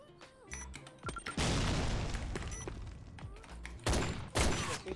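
Gunfire in a Sudden Attack ranked match: quick single shots followed by loud dense bursts of automatic fire with booming impacts, close and intense, repeating in short volleys.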